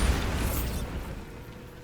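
Bombarda spell explosion in the Hogwarts Legacy video game, one loud, close boom with a sharp burst that dies away into a low, fading rumble within about a second.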